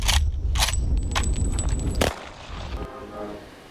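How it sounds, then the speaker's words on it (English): Several sharp gunshot-like bangs crack in quick succession from news footage of a beach where beachgoers flee, followed by a quieter stretch of murmuring outdoor noise. "You can see beachgoers starting to run from the scene as they heard the gunshots."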